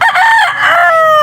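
A rooster at a pet market crows loudly and close by, one long strained call that rises and then trails off, with little else behind it.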